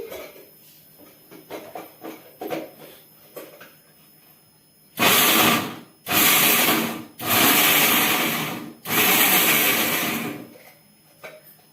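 A kitchen mixie grinding coconut, garlic and ginger, four loud close whirring bursts of a few seconds each with short pauses, after some quieter clatter of handling.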